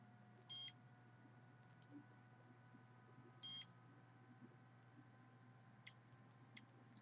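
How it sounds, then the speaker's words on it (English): A microwave detector beeps in two short pulsed bursts about three seconds apart, each a bright electronic bleep, over a steady low electrical hum with a few faint ticks. "you notice it's pulsed because the detector is not going off continuously, but it is motion activated"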